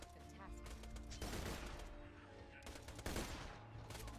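Gunfire in the video game Borderlands 2, a couple of heavy bursts of shots with harsh crackling impacts amid ongoing combat noise, fairly loud.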